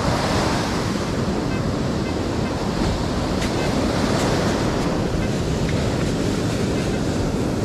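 Ocean waves roll onto Redondo Beach, California, in a steady, loud wash of surf, with wind buffeting the microphone throughout and no voices.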